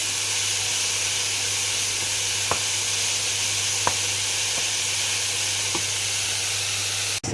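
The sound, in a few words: mushrooms, carrot and onion sizzling as ragu reduces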